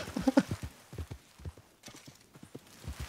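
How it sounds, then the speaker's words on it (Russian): Horse hooves in the Red Dead Online video game clip-clop in an uneven trotting rhythm, close and moderately loud, with a brief whinny-like sound early on. "я не могу остановить лошадь, ей нравится тебе пинать"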